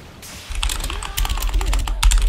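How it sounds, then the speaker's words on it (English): A computer keyboard being handled and unplugged at a gaming desk, with a burst of clicks, clacks and plastic knocks starting abruptly and continuing in irregular bunches, close and fairly loud. "let me unplug my keyboard quickly"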